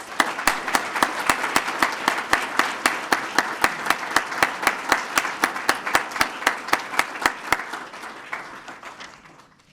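Crowd at a police swearing-in ceremony claps in a strong, steady rhythm, the unison beats loud and regular for most of the time before thinning and fading out at the end.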